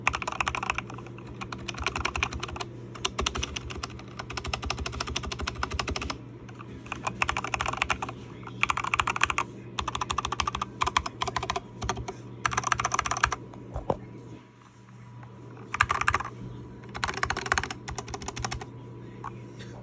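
Rapid typing on a mechanical keyboard with white and orange keycaps, a muted, thocky clatter of close keystrokes in bursts with brief pauses, heard alone.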